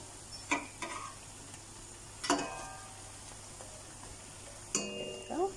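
Jalebi frying in hot oil, a faint continuous sizzle broken by a few sharp clinks and scrapes as the pieces are turned over with a utensil, quiet and close.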